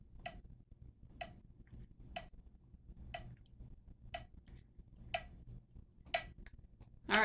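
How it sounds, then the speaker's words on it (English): Steady metronome clicks set up to pace a choir rehearsal, seven even ticks about one per second over a quiet room hum, ending on a brief louder noise. "I can put on my metronome, which will be my third hand."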